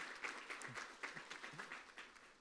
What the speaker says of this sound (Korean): 맨 뒤에 계신데 우리 박수로 환영하겠습니다.